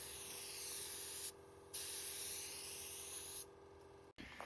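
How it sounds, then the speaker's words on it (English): A spray gun hisses steadily while applying clear coat to the bonnet of an FZJ 80 Series Landcruiser. Two long bursts are separated by a short pause, and a clunk comes at the end. "It was now time to spray the clear coat."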